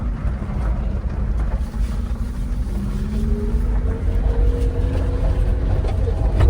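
A supercharged Subaru Sambar drives along with a low, steady engine drone. Its pitch climbs and settles as it moves through the gears, heard from inside the cabin with no talking.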